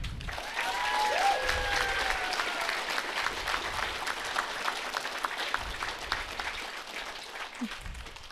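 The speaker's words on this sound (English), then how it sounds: "Please applaud them for their commitment to inclusive employment." An audience at a graduation ceremony claps steadily throughout, a sustained round of applause with faint cheering mixed in.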